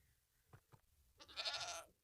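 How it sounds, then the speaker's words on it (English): A baby goat in the Minecraft video game bleats once, a clear wavering cry after two soft short sounds, heard alone over a quiet background. "There's the baby goat."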